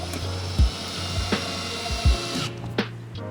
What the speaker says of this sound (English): Now let's put 2 more screws on here.